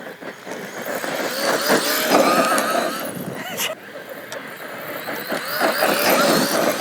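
A Traxxas Maxx RC car run at full throttle, its electric motor whining loud and steady with rising and falling pitch as it speeds around, hard to control and lifting its front end.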